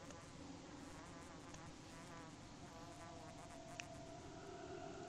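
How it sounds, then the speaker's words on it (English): An ear-splitting, insect-like buzz from nearby herbs in the video game Pathologic 2, a steady droning hum with wavering harmonics that holds continuously and loudly throughout, with a couple of faint clicks on top. "The sound that herbs make when they are nearby, so you can locate them, is this ear-splitting insect-like buzz"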